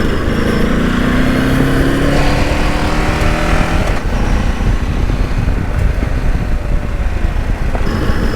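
A new motorcycle ridden along hill roads, its engine a steady close drone with rising and falling revs and rushing wind noise throughout, no talking.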